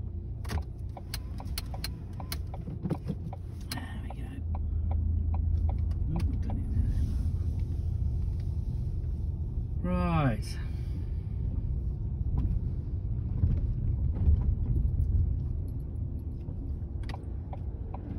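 A car reverses out of a driveway in a slow, quiet, low engine rumble heard from inside, with scattered ticks and clicks and a brief rising whine partway through.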